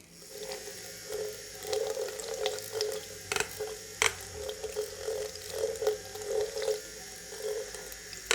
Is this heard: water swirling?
yes